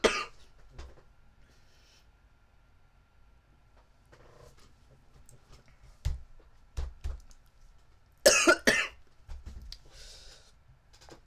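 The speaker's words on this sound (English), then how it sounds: "have a bad cough" A few short, scattered coughs in a quiet room, with a louder burst of harsh coughing near the end.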